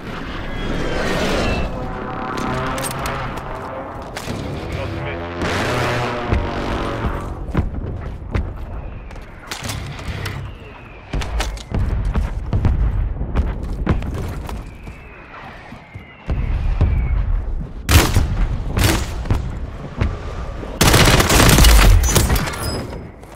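A fire mission strike lands in Call of Duty Warzone: heavy gunfire bursts, thuds and loud booming impacts arrive in irregular clusters, growing louder toward the end, with no talk over them.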